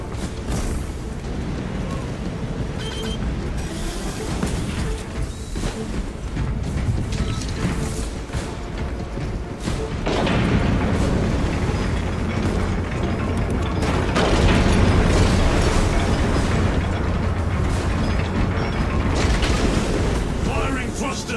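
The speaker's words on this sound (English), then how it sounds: "Thrusters engaged." Jump pack thrusters roaring in the video game Space Marine 2, a dense, continuous blast of rushing mechanical noise that swells louder midway and stays heavy throughout, with game sounds layered underneath.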